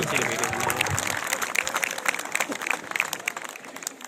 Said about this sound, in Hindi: बच्चों, जोरदार ताली के साथ स्वागत की डॉक्टर महन सिंह